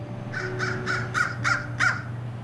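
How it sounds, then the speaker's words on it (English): A crow caws six times in an even rhythm, loud and fairly close, over a low steady hum. "Birds."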